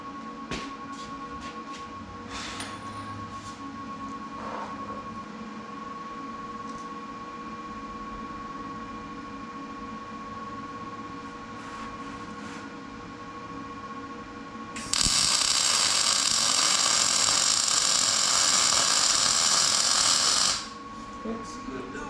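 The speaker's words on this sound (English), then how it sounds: "I'm going to set the welder up and make my first weld" A MIG welder lays down a first bead on a fabrication project, a loud steady crackling hiss lasting about six seconds after a stretch of quiet shop ambience and faint talk.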